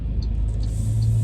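A 2020 MG ZS 1.5 Exclusive with manual gearbox, its engine running at a stop, gives a steady low, rumbling hum that stays even throughout.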